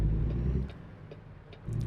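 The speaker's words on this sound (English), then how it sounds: "Oh, this truck almost hit me." A truck in a driving video game rumbles past with a low engine drone that swells, fades, then rises again, fairly close and without talk over it.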